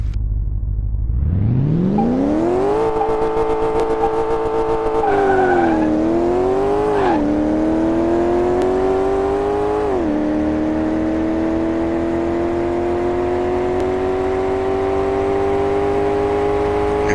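Game car in Car Mechanic Simulator 2018 accelerating hard from a standstill, engine note rising smoothly through a few gear changes, then holding a steady, loud, near drone alone with no talk.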